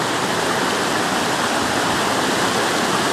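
Loud, steady rush of a swollen stream running high over submerged rocks after Hurricane Sandy, a dense continuous roar of water with no break, close by and filling the whole scene.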